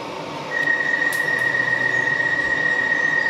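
A DART commuter train in Dublin rumbling along the rails, growing louder as it gets under way, with a sustained high squeal over the steady roar.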